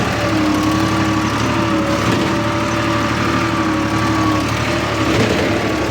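A diesel tractor pulling a five-furrow plough through a farm field at low throttle gives a steady, continuous engine drone with a low mechanical hum, close and unbroken for the whole stretch.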